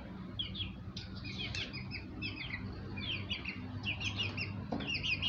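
Baby chicks chirping nearby in a home: rapid, high, repeated peeping calls in bursts throughout, fairly clear over a low background hum, with no talking.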